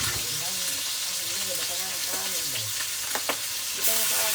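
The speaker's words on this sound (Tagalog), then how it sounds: "Yung onion boil ko, i-fried ko." Boiled onion fries in a pan with a dense, steady sizzle and crackle, close and fairly loud, while a voice talks over it.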